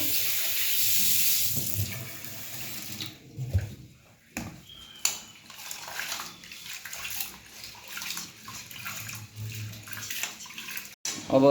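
Old rice for sel roti is rinsed under a running tap in a kitchen sink: steady splashing water at first, then intermittent trickling and clatter as the grains are swirled.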